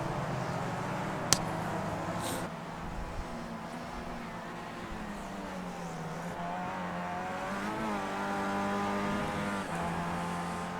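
A Skip Barber race car in iRacing at Circuit Villeneuve drives through the final chicane, a steady buzzing engine note with rising and falling pitch as it brakes and accelerates, plus a brief sharp click early on.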